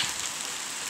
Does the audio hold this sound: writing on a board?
no